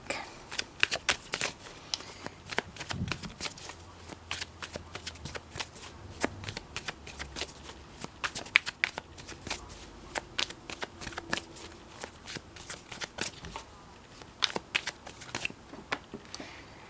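A tarot deck is shuffled by hand close up, producing fast, irregular riffling snaps and papery flicks that run continuously with brief pauses.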